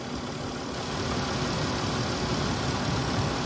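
Car engine idling steadily after a fuel pump repair in a workshop, a continuous low rumble with broadband noise and a faint high whine, running alone without talk.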